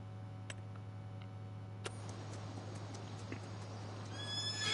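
Horses in Farming Simulator 25 whinny against a steady low hum, with a few sharp clicks and hoof taps scattered through and a louder, rising neigh near the end.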